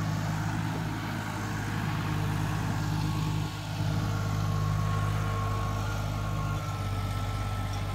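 A big new tractor without a bumper idles steadily at a brick kiln, a constant low, throbbing diesel rumble with a strong hum and only a couple of slight dips, close and alone without talk.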